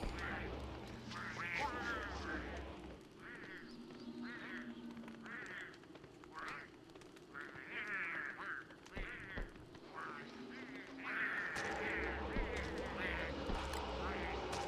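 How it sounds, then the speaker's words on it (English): Repeated duck-like quacks from an awake bird, a series of short honking calls coming in bursts at moderate distance, with a person talking intermittently underneath. "The bird is awake."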